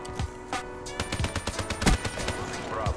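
An automated sentry gun in a multiplayer shooter video game fires a rapid run of sharp gunshots, mixed with other battle noise at moderate loudness.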